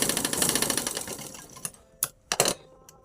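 A sewing machine double-stitches the hem of a one-year-old's baby gown: a fast, close run of rhythmic mechanical chatter that slows and stops, followed by a few short separate bursts of stitching.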